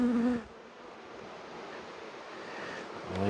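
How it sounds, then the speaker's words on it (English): Honey bees at a hive hum in a steady, dense drone, moderately close, with a brief louder tone at the start and end. "There's a lot of bees there."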